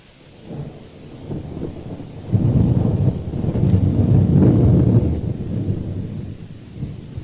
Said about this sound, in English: It's a mighty grist of rain out yonder.